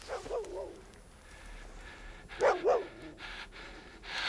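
A dog barks in a few short bursts, one near the start and a louder double bark in the middle, with faint background noise between.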